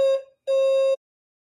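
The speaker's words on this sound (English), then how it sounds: "So that's my fire alarm." An apartment fire alarm sounds two loud electronic tones, a short beep and then a longer sustained one after a brief gap, each bright and steady with a clear, piercing pitch.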